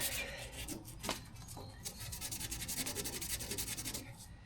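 Close, steady rhythmic scraping of sandpaper rubbing back and forth on a rusted, pitted car body panel, with quick regular strokes and no talking.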